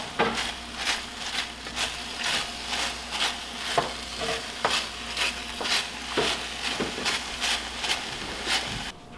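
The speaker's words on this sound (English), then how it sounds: "I'm gonna throw this in here for a minute and saute it up with my sausage." Sausage sautés in a pan while being stirred, producing a low sizzle broken by regular, evenly spaced scraping strokes of the utensil, close and fairly loud.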